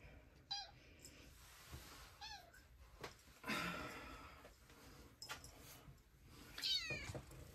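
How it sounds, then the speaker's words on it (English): A house cat gives several short meows spread across the stretch, separated by pauses, with rustling handling noise in between and one louder, higher cry near the end; fairly close but not loud. "My kitty cat wants to be held and loved on, and now she doesn't."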